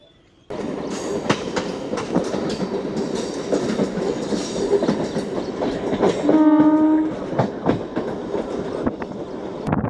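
A MEMU train rumbles along with rhythmic clickety-clack arriving at Lottegollahalli station near Bengaluru, then a loud sustained horn blast sounds for about a second before the rolling continues.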